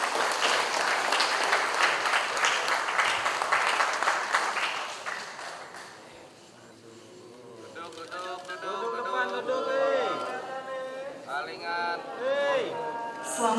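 An audience at an Indonesian award ceremony applauds loudly and steadily at first, then the clapping fades. Someone speaks over it through a public address system as it dies down.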